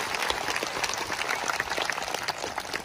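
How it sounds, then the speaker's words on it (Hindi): A church congregation applauds the Lord at a sermon's request, a steady wash of many hands clapping that stays dense and even throughout, fairly distant. "एक अच्छी ताली अभी तक प्रभु के लिए, जोर से"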